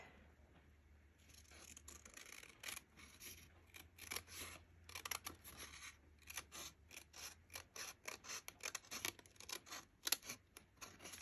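Scissors cutting through junk mail envelope paper for a vintage flip flop journal, a series of close, crisp snips and paper crunches in irregular rhythm, quiet and alone.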